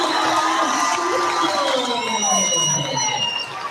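A high school basketball crowd in the Pierre Governors vs. Brookings Bobcats game roars after a three-pointer, a loud, close swell of cheering and whoops that holds for several seconds.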